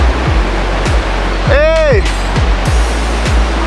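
The river near El Puma waterfall in Piedecuesta, Santander, rushes as a steady, loud broadband roar, overlaid by rhythmic knocking footsteps, and a man gives a short shout partway through.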